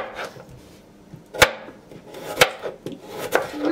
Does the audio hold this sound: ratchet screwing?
no